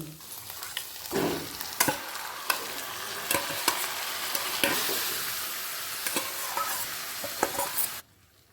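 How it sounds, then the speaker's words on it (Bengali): Chicken stirred into fried onions in a hot pan for a fenugreek (methi) chicken dish: a steady close sizzle of frying with repeated sharp scrapes and clicks of a spoon against the pan, and no talk. "গ্যাসে ফ্লেমটাকে বাড়িয়ে দিয়ে ভাজা পেঁয়াজের সাথে চিকেনটাকে ভালো করে মিশিয়ে নেব"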